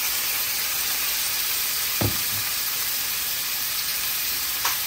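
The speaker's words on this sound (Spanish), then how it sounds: "Aquí me voy a poner a freír la carne, amigos" Meat frying in a pan with a dense, constant hiss of sizzling fat that stays loud throughout, broken by a couple of brief knocks.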